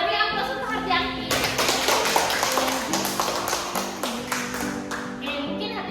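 A classroom full of students claps for a classmate after a lesson, a dense burst of applause lasting several seconds over background music and faint voices.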